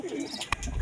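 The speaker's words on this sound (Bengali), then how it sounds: "এখানে কিছু ভালো ভালো কালেকশনের পায়রা আছে" Pigeons kept in a loft for sale give a soft, low coo nearby, followed by a brief sharp flutter or click before the cooing resumes.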